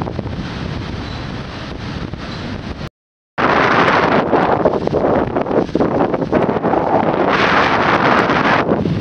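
Strong wind buffets the microphone at the seaside at Prestatyn, North Wales, during high tide, a loud continuous roar with surf underneath and a brief dropout partway through.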